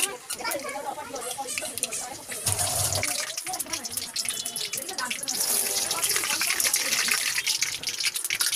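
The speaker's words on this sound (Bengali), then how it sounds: "এখন আমরা পানি দিয়ে দিই।" Water is poured into a pot of frying rice for pulao, making a continuous rushing, splashing pour that runs steadily throughout, with speech partly over it.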